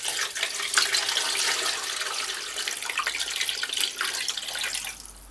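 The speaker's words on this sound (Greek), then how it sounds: "Θα τα σκεπάσω με νερό." Tap water runs steadily into a cooking pot of washed tripe and beef belly, a continuous hissing splash that holds close and loud for several seconds before tapering off at the end.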